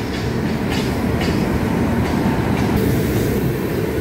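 A passenger train pulling out of Howrah station rumbles steadily with a dense, continuous roar of wheels and carriages, loud and close throughout with no talk.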